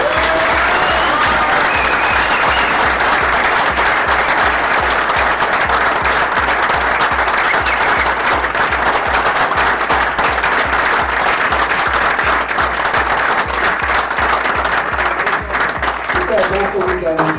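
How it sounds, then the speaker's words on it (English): Loud, sustained audience applause fills the hall at a WFTF championship in South Africa in 2023, dense clapping continuing throughout with a low steady hum underneath and some faint crowd voices mixed in. "So I would like to give a big applause to Johan Jansen for all."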